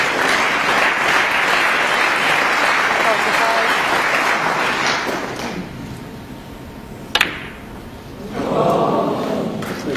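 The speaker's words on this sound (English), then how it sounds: "The applause from the crowd." Snooker crowd applause at the 2014 Welsh Open quarter-final, a dense steady clapping that thins out midway, leaving a sparse hall with a sharp knock, before a brief renewed burst of clapping near the end.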